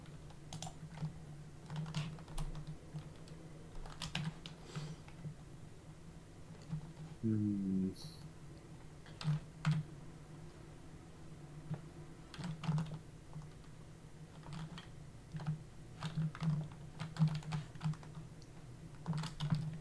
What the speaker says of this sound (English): it's always so loud when I type, even though this isn't the heaviest keyboard, because I hit the keys very hard with my thumbs